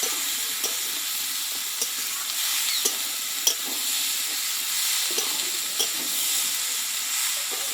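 Potatoes and kabuli chickpeas fry with spices in a pan, giving a steady, close sizzling hiss with occasional soft stirring scrapes and no talk.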